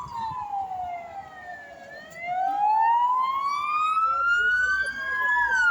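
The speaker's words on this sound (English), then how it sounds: "sirens everywhere" Sirens wail in long sweeping tones in Benidorm, one gliding down then climbing again, moderately distant and continuous over low background rumble.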